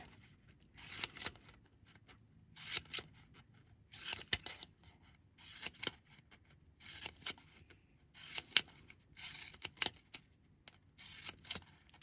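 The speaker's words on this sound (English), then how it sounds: "And then I'm just going to keep snipping all the way around." Repeated bursts of close scissor snipping through fabric, in short clusters with brief pauses between, no talking.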